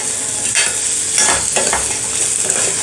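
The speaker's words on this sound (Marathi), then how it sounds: "आता हे थोडंसं मी परतून घेते" Peanuts and vegetables sauté in a hot pan, a continuous close sizzle with scraping stirring strokes, no voices.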